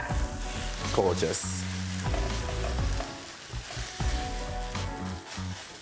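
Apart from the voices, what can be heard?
canned chopped tomatoes with sugar sizzling, stirred in pan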